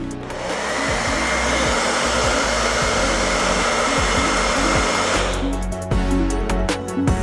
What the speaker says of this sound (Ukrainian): Після таких польотів на дощі приходиться сушити дрон феном.